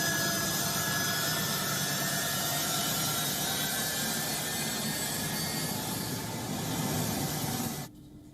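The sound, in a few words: American military plane taking off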